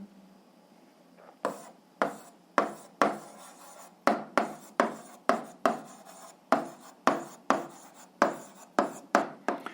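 Rhythmic scratching strokes of a pen writing an algebra answer by hand in a math lesson, a steady series of short rubbing bursts close up with no talking.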